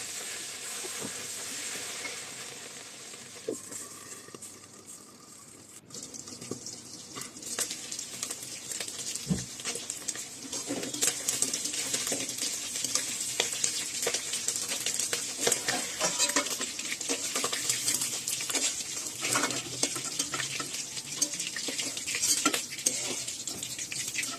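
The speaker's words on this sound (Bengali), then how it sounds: "মাংসগুলো এরকম একটু গোল্ডেন ব্রাউন করে ভাজতে হবে।" Mutton pieces fry in oil for biryani with a continuous sizzle that builds louder after a quieter start, joined by clinks of a utensil against the pot and stirring scrapes.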